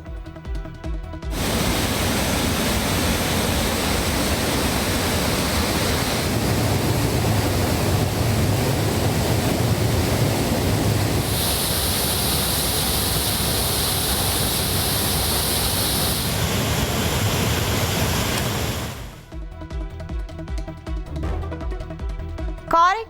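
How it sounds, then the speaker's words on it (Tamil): Flooded Manimuthar waterfall after heavy rain: a steady, loud, broadband roar of gushing water that holds for most of the clip before cutting away. "மணிமுத்தாறு அருவியில் 3வது நாளாக வெள்ளப்பெருக்கு."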